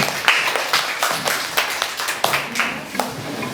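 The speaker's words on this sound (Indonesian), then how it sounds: "Tepuk tangan." A small group at a workshop claps in a brisk, uneven burst of hand claps lasting a few seconds, fairly close and loud, with no talking.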